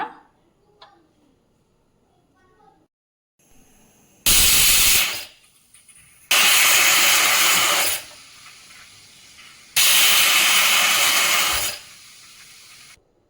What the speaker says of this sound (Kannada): ಗ್ಯಾಸ್ ಸ್ಟವ್ ಆನ್ ಮಾಡಿಬಿಟ್ಟು ಲಿಡ್ ಕ್ಲೋಸ್ ಮಾಡಿಬಿಟ್ಟು 3 ವಿಸಿಲ್ವರೆಗೆ ನಾವು ಕಾಯೋಣ